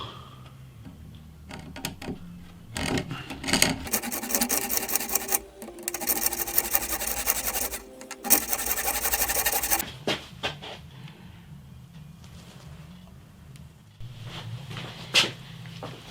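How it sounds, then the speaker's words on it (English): Pull saw cutting through wood while trimming about 3mm off the bottom of an olive and walnut acoustic guitar: steady rhythmic rasping strokes, close and loud, in bursts with short pauses between. "It's a lot to cut off, so I'm going to try and do it with this pull saw."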